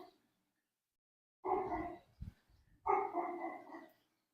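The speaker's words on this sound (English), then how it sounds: "Dog, shut up." A dog barks twice nearby, two loud sustained barks with a short gap between them and a brief thump in the middle, after a stretch of near silence.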